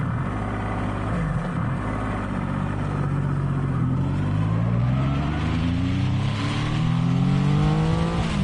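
A Triumph Rocket 3 GT motorcycle engine rumbles loud and close on the overrun, a deep continuous roar whose pitch sweeps smoothly up and down as the bike runs.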